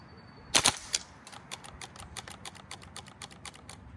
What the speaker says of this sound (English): let's see how the burst fire performs